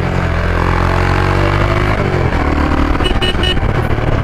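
A Hero Xpulse 200 motorcycle rides through city traffic, its engine a loud, steady drone close by, with a horn-like toot and shifting road noise near the end.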